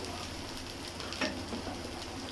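Taro pieces fry in hot oil in a pan, a dense continuous sizzle with faint stirring scrapes, close and even throughout.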